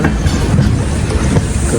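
Train running on the rails past Daund railway station, heard from on board as a steady, loud rolling rumble with faint wheel clatter throughout.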